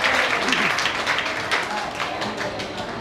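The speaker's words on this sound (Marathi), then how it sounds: "भालेरावांसाठी जोरदार टाळ्या वाजवा" Audience applause at a residents' meeting about a housing redevelopment in Dr. Ambedkar Nagar: dense, steady clapping from a seated crowd that fills the room, holding level throughout with no pause.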